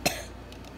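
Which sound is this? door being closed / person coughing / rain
person coughing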